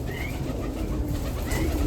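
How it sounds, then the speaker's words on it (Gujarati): Pigeons gathered by a village well coo in low, soft calls over dense, steady outdoor noise. No one speaks. "નકરા બેઠા કબૂતર"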